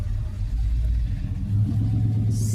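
A mean-sounding car engine at a car show rumbles loud and close, a steady deep idle that swells slightly as it revs, with no voices over it.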